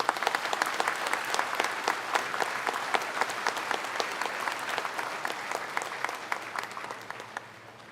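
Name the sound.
audience applause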